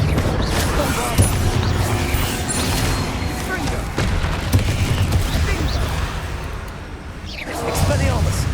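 A booming magical explosion from the Bombarda spell in Hogwarts Legacy, a dense, loud blast and rumble with crackling debris, filling the whole stretch with heavy roar.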